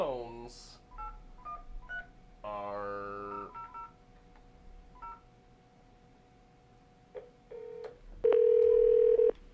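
Telephone dialing tones ring out during a radio broadcast call: a few short beeps, then a long steady tone near the end that is louder than the rest. Quieter speech runs in between.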